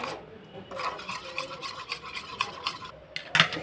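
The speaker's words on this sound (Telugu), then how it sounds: "ఇలా బాగా మిక్స్ చేసుకోవాలి మనం" A sauce mixture mixed together with heated oil for a Korean-style Maggi dish: steady, close scraping and rubbing strokes that run continuously, ending in a couple of sharper clinks.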